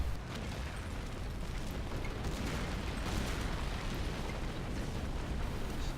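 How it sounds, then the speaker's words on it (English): Dive-bombing Stuka aircraft in a World War II strategy game, three at once, unleash continuous rumbling explosions and blasts, a dense loud roar of bombardment that never lets up. "Just mass Stuka fire from 3 Stukas"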